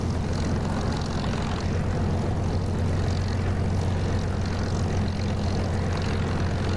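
Spitfire engine at takeoff in the DCS flight simulator game, a loud continuous propeller-engine drone with a steady low rumble throughout, no voices.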